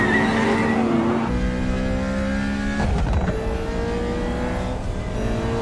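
Race cars launching at the start of a race in a movie scene, engines roaring and revving hard with rising pitch sweeps and a brief tire squeal, loud and close.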